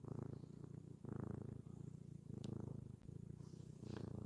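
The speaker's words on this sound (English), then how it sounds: "Can y'all hear her purring?" A close, steady cat purr rumbles in rhythmic cycles, swelling with each breath, alone and fairly loud.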